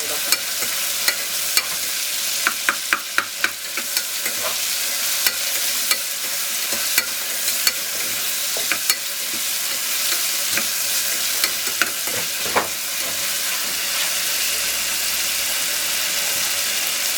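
Tomatoes with a pinch of salt fry steadily in a pan for a tamarind vegetable curry, a constant close sizzle broken by sharp stirring clicks and scrapes, no voices.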